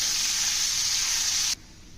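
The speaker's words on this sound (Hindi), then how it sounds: "जो कीमा है हमारा ये डाल देंगे। इसको अच्छे से भूंजेंगे।" Minced meat hitting hot butter on a tawa, a bright steady hiss that cuts off abruptly after about a second and a half, leaving quiet background.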